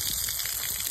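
Water gushes in a brief, steady pour over a child's feet for washing, a close splashing rush under a second.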